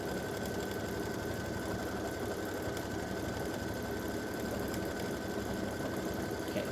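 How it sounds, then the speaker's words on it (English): A home embroidery machine stitches a hummingbird and hibiscus edge-to-edge quilting design in a 5x7 hoop, giving a steady, continuous mechanical hum with rapid needle chatter throughout, close and unbroken, with no talking. "Okay, so I will be back when this finishes stitching."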